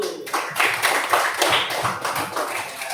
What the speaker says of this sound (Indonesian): Mari kita beri tepuk tangan untuk kelompok 1.